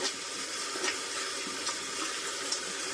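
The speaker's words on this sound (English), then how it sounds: "I'm going to run the water." Tap water running into a bathroom sink before a shave, a steady broad hiss of flowing water that stays even and close throughout, with no voices.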